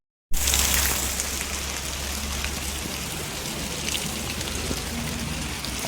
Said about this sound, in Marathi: हा पाऊस चालू